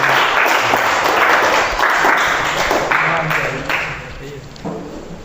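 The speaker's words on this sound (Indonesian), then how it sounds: "tepuk tangan untuk kelompok 3" Students in a classroom applaud a student group after its presentation. The loud clapping is close and fairly dense and eases off slightly toward the end.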